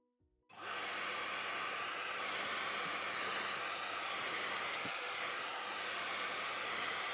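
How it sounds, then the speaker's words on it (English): A hair dryer blows steadily and loudly on freshly painted terracotta plant pots, a constant broadband whoosh starting after a brief silent moment and running unbroken to the end, with no voices. "I speed up the process using a hairdryer for mine."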